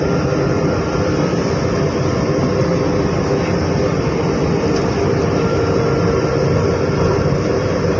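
A loud, steady rumble of an MRT-3 train in motion at a station platform, continuous and close, with no voices.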